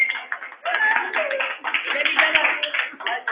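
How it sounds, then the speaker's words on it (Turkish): Hands clap in a dense, uneven patter that pauses briefly and resumes, fairly close and filtered-sounding, with a voice mixed into the clapping. "Alkış alkış."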